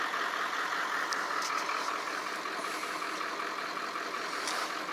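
An early 1999 Ford Super Duty with a 7.3 diesel engine and a 1994.5 high-pressure oil pump idles steadily. It gives a constant, even drone from start to finish with no talking.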